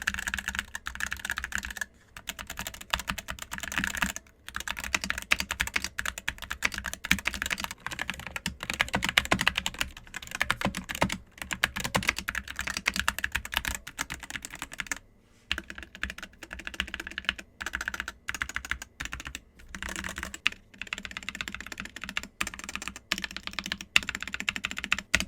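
Fast, continuous typing on a GEEK SK64S compact Bluetooth keyboard with Gateron optical switches, lubed stabilizers and added foam, heard up close as dense, steady key clacks with only brief pauses and no voices.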